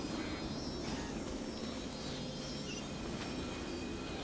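A train runs in the Genshin Impact video game, giving off a constant low rumble and broad steady noise with faint high tonal hums, unchanging across the few seconds.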